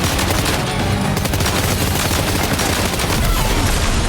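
Assault rifle gunfire in the Death Stranding 2 video game, a dense, loud, continuous burst of rapid shots filling the whole stretch without pause.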